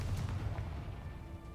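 A Confringo spell explosion in the Hogwarts Legacy video game: a single deep, booming blast at the start that rumbles and fades over a second or so, with no talk.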